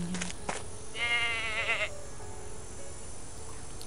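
A goat in the Agatha Christie video game And Then There Were None gives one clear, wavering bleat of about a second over steady background ambience.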